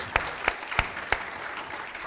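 A small audience at a live food-creativity event claps for award winners, with four distinct, evenly spaced loud claps standing out over a thin patter that then fades.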